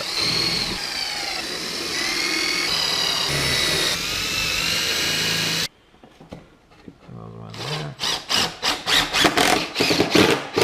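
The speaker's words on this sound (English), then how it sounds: "I'm gonna pre-drill these holes just so I don't split the sides of the plywood here" A power drill pre-drilling holes in plywood whines steadily at high speed, then after a short pause fires in a rapid series of short bursts, close and loud.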